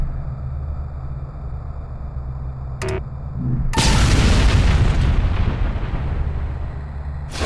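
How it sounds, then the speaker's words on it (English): A demolition charge detonates in the video game The Bureau, a loud, deep booming blast that rumbles on for several seconds after a couple of short sharp clicks, then dies back toward a steady hum. "Now simply detonate the charge."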